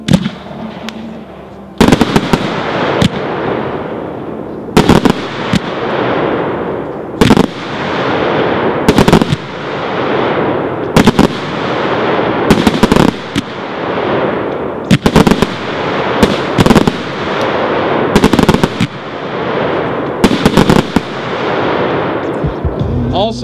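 A Dominator 100-shot blue mines to blue peony firework cake fires at a steady pace, a long run of sharp launch thumps and bursts that repeat without stopping against a constant crackling bed.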